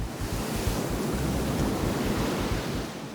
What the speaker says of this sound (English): These monster waves are the enemy.